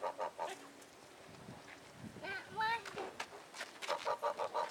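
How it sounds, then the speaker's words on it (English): Geese honk close by during feeding, giving a few short nasal calls in a quick series with some scattered bird sounds, while people chat in the background. "That's called a goose."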